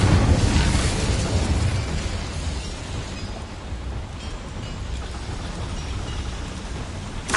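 An Incendio fire spell cast in Hogwarts Legacy on PlayStation 5: a loud, dense fiery burst that roars and crackles at the start, then settles into a sustained rushing, sizzling wash that swells again at the very end.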